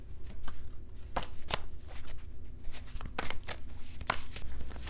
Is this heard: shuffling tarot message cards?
yes